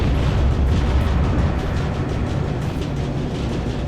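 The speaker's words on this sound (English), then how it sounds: "I heard an explosion" A loud, sustained explosion rumble in the Captain America: Super Soldier game, a dense roaring blast that holds steady for several seconds without pause.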